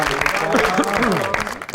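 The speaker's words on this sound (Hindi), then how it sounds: "बहुत सारी तालियां जी" A studio audience at a TV comedy talk show gives a loud, brief burst of clapping, mixed with voices as a guest is welcomed.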